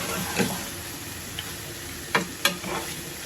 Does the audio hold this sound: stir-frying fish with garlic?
yes